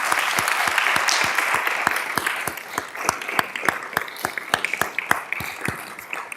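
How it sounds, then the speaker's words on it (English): Applause from a crowd at a city council meeting, dense steady clapping throughout, with a few sharper individual claps standing out near the front. "let's give a round of applause for your city manager and for your city staff"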